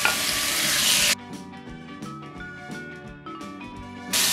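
Loud, bright sizzle of beef hitting hot oil in a pan, broken by a stretch of music before the frying roar returns at full strength.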